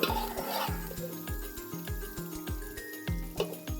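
Onions fry in oil in a pan for Sindhi-style rice, a steady sizzle broken by a regular, repeated scrape and clack of a spoon stirring against the pot, close up and without talk.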